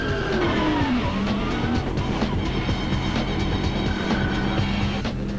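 A 2001 V8 Supercar laps a race track, heard from on board with a loud, continuous engine roar whose pitch sweeps up and down through gear changes, no voices.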